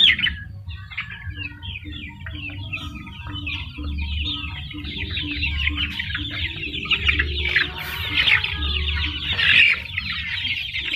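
Village chickens cluck and squawk steadily while eating fermented feed, with busy overlapping calls and some chirps throughout, close and fairly loud, with no talking.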